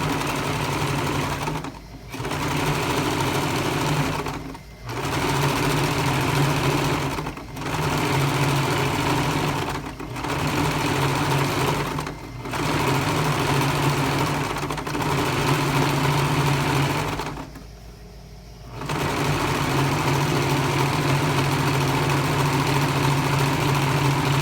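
Sewing machine topstitching the front of women's trousers with a fine, narrow seam, running in a steady loud whir for several seconds at a time, broken by short pauses roughly every two to three seconds and a longer stop near the end.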